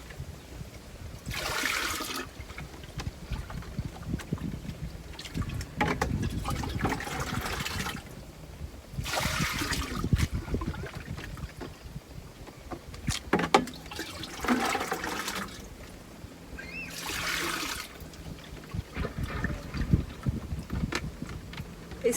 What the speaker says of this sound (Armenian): Ջուրը լցնում ենք, քանի որ մոշի հատիկները հիմնականում պտղամիս է